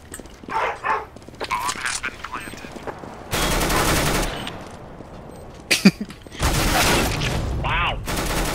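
Gunfire in Counter-Strike: Global Offensive, sharp bursts of automatic rifle fire and single shots in short clusters, loud and close, mixed with players talking.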